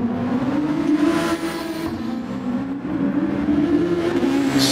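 A Super Formula race car screams along at Monza in a racing video game, its engine holding a loud, steady high-pitched drone that swells slightly as it accelerates, with no voices over it.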